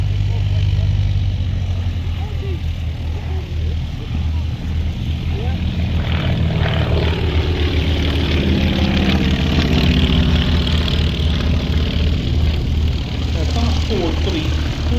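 A Beech Staggerwing biplane's radial engine drones steadily and loudly at the East Kirkby Airshow, a deep continuous rumble with a rising propeller note midway, heard without speech.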